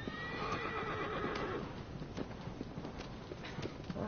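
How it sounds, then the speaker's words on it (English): A horse in the Shadow of the Colossus video game whinnies loudly and repeatedly, with intermittent hooves clip-clopping on open ground beneath, all close and steady, with no speech. "I like seeing horses roaming free in open environments"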